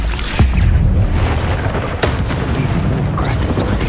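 Bombarda explosion spell in the video game Hogwarts Legacy, loud booming blasts with heavy low rumble, one sharp burst early and another near the middle, amid dense battle noise.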